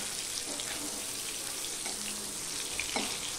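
A hilsa fish piece fries in oil with a continuous crackling sizzle and a few light utensil touches, without speech.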